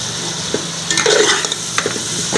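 Chicken jalfrezi stirred in a frying pan, a spoon scraping and clinking through the sizzling mixture in a few close, brief strokes over a steady frying hiss.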